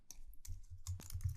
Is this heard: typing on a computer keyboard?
yes